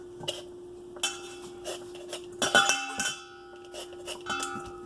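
Knife chopping green papaya for a Lao-style papaya salad, a run of sharp, irregular taps and clinks spaced through the clip, close and fairly crisp, with louder strikes clustered in the middle.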